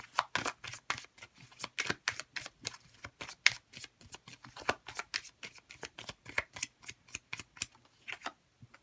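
Tarot cards are shuffled and drawn, producing a quick, irregular run of close, crisp flicks and snaps, tightly spaced in bursts with short pauses between.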